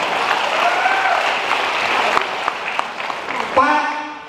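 Loud applause from a seminar audience at a sales motivation talk, dense and steady throughout before thinning near the end, with a voice breaking in over the clapping at the close.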